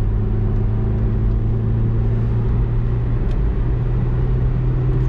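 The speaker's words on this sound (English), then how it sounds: "Full throttle on 4th gear." A 1992 Citroen ZX engine held at full throttle in fourth gear on a highway, a loud, constant droning roar with a steady tone and a rushing rumble throughout.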